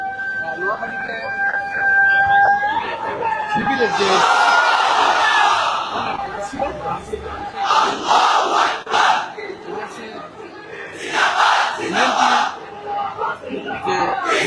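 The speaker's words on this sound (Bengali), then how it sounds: "সকলে কিন্তু বিভিন্ন স্লোগান দিচ্ছেন স্লোগানে স্লোগানে কিন্তু মিছিলটি শুরু করেছেন" Protesters in a street procession at an Islamic student demonstration chant slogans in loud, rhythmic bursts, a large crowd shouting together in repeated waves with brief lulls between.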